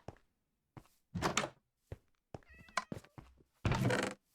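A Minecraft cat meows several times in short separate calls, close and clear, with a few soft thumps between them and no talking.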